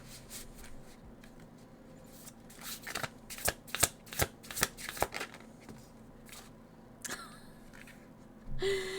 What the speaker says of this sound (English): I feel like just one more shuffle